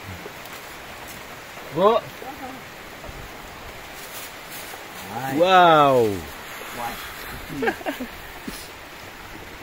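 Rain falling during a trek through a coffee plantation, a steady soft hiss of drops on leaves and ground throughout, with brief voices and exclamations rising above it at moments.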